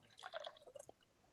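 A cocktail is poured from a shaker into a glass, giving a brief, quiet splash and trickle that ends in a few drips.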